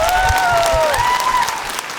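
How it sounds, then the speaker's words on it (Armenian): A talent show audience applauding, dense close clapping that tapers off toward the end, with a sustained tone and a faint voice over it. "բրավո, մի հատ էլ ծափ տանք։"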